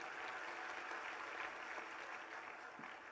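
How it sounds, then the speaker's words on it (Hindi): An audience at a Hindu religious question-and-answer gathering claps steadily throughout, a dense, even patter of many hands, fairly faint and distant, with no talk. "ताली बजाओ बच्ची को"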